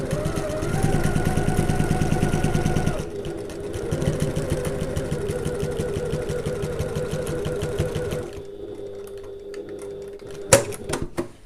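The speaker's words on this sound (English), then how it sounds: "So now I'm going to sew back down the same line that I sewed before." A sewing machine stitching back down a seam line on a fabric tote bag pocket: steady rapid mechanical whirring and needle clatter, pausing and resuming, then slowing and stopping with a few clicks. Close and alone.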